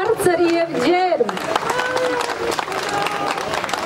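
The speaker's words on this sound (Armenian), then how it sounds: "ծափահարությունները բարձր և ջերմ" Wedding guests applaud the newlyweds, a lively mix of clapping and crowd noise running under a voice speaking loudly over it, with music-like tones early on.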